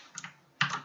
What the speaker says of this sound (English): I will just type delete here